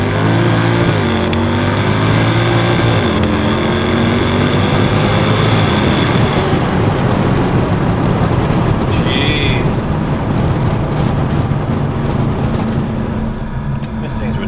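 A Mercedes C63 engine revs hard, a loud continuous roar with the pitch climbing and dropping over a gear change, steady throughout the clip.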